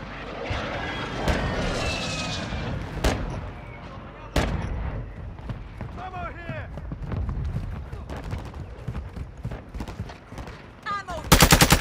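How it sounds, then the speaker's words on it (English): A friendly mortar strike in Call of Duty: Modern Warfare II, heavy thudding impacts spaced across the battle with rattling gunfire and whizzing rounds in between, ending in a rapid burst of fire, while voices talk over the action. "Friendly mortar strike inbound."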